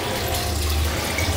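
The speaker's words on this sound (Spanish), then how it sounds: "Hasta que no cerrás el agua." Water runs steadily from a tap, a continuous close rushing stream with no voices over it.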